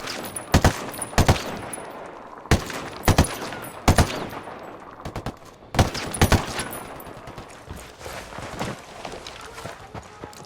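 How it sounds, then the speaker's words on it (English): Gunfire from Ghost Recon Wildlands cracks out in loud, sharp clusters of three or four shots, repeated several times close by, then thinning into scattered quieter shots toward the end. "I'm opening fire."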